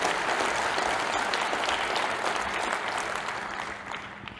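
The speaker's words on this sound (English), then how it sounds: "Let's give the chairwoman a round of applause." Audience applause fills a conference hall after a call to honor the chairwoman, a dense, steady wash of many hands clapping at close range that slowly tapers off toward the end.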